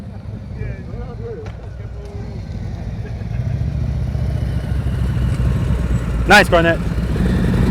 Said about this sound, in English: Now you hear that glug, glug, glug, glug, glug?